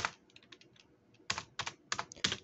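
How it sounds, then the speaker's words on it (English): Keys clatter on a computer keyboard in irregular bursts, a few light taps followed by sharper clustered keystrokes, quiet and close by. "I'm trying to do this with the keyboard here."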